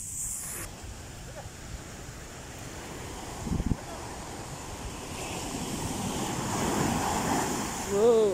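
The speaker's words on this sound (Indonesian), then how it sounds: "Wow, ombaknya gede." Big ocean waves break at a beach, a broad continuous roar of surf with wind buffeting the microphone, swelling louder toward the end.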